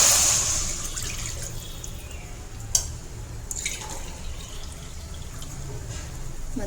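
Water is poured into a cooking pot over rice flour, a short splashing gush at the start that quickly fades to faint drips and quiet kitchen room tone.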